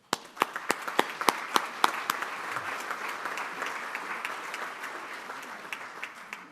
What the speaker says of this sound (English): Let's please give a round of applause for all of our guests today.